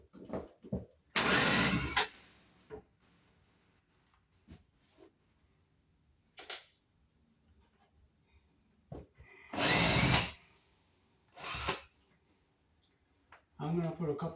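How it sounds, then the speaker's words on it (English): Cordless power drill backing screws out of a kitchen range hood in an apartment, a few short whirring bursts of one to two seconds separated by quiet stretches and faint handling clicks. "Now we can start unscrewing our hood."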